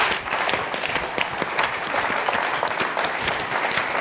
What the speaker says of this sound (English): You're going to keep clapping.